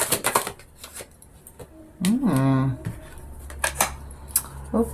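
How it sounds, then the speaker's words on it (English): A tarot deck is shuffled by hand during a reading, giving crisp bursts of card riffling and flicking close to the listener, broken midway by a brief hummed voice-like tone. "I'll shuffle them back in, just in case one of them was the one that wanted to come out."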